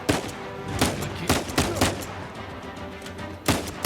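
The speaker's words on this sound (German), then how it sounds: "Guter Schuss, Nate." Repeated sharp gunshots in the video game Uncharted 4, in quick succession, some in bursts, punchy and close, with a steady rumbling background between shots.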